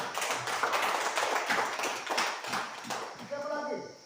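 A classroom of students clapping during a lesson, quick scattered claps close by that soon fade, with a voice speaking briefly at the end.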